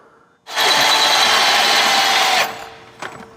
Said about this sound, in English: I'm drilling my 150th hole of the day.